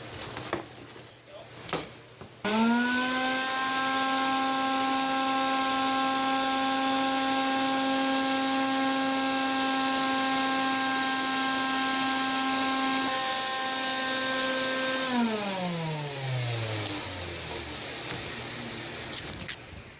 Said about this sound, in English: Vacuum the rest of them in.